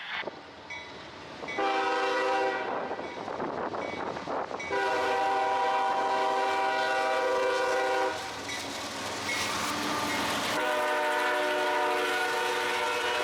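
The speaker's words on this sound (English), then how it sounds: "this huge train, 600 axles" A long, 600-axle CSX freight train on the Indianapolis Line at Fortville rumbles past on wet rail, its loud multi-tone horn sounding in several long blasts over the steady roar of the cars.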